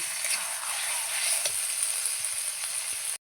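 Meat sizzles steadily in a covered pan as it is braised for a meat curry, a constant close hiss of frying that runs unbroken and then cuts off abruptly.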